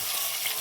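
Onions hiss and sizzle in hot oil for a Konkan-style tempering. The frying makes a brief, steady crackle at close range, with no voices.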